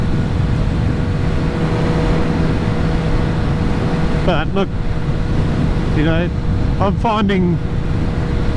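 A Kawasaki ZH2 motorcycle engine drones steadily at high revs while touring through windy Barossa Valley countryside, a continuous loud roar mixed with wind buffeting, with a person talking over it in the latter half.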